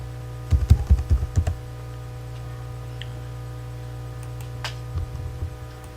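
Keys tapped on a computer keyboard as text is typed, a quick burst of close clicks followed by silence with a steady hum, then a few fainter taps near the end.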